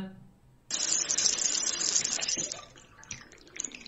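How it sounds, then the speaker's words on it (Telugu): Water gushes steadily from a tap after a quiet start, a loud broadband rush that lasts a couple of seconds before easing off and thinning toward the end. "ఇప్పుడు ఏమైందిరా ట్యాప్ కడితే?"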